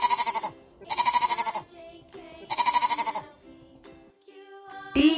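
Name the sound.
sheep bleating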